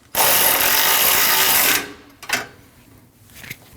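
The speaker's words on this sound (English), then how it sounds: "and you can tighten that bolt down." A loud, steady whir of a power tool runs for about a second and a half while tightening a bolt on a 2012-2016 Honda CR-V 2.4L AC condenser line, followed by a few faint metallic clicks.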